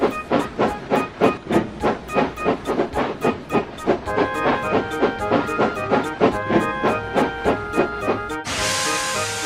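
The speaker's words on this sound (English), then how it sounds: "so we soon had steam up" An old narrow-gauge steam locomotive with steam up, puffing in rapid rhythmic chuffs that soften into steadier hissing, then a sudden loud blast of escaping steam at the end.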